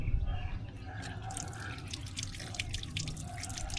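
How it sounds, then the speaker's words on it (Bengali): Water drips and splashes steadily while dishes are washed at a sink in a village home kitchen, a continuous wet patter with scattered brighter drops and no talk over it. "দাও আমি একটু ধুয়ে দিই।"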